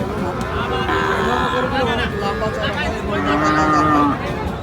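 Long, low moos from Sahiwal cattle rise and fall over several seconds, with a voice and general farmyard noise in the background.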